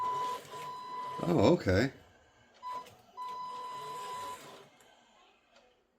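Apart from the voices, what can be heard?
RC crawler car motor responding to throttle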